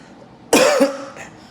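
A single sharp, close cough that trails off quickly against a quiet background.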